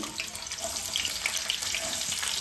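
Sliced onions dropped into hot oil for egg bhurji hiss and crackle in a steady, dense sizzle that stays fairly loud and even throughout, with no voices.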